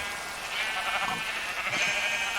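Sheep in a farming video game bleat in a couple of drawn-out, wavering calls over a steady background hum of game ambience.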